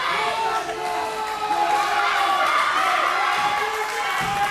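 Crowd at a professional wrestling match between Alex Shelley and Suge D, cheering and shouting steadily with high voices and whoops rising throughout, fairly loud and continuous.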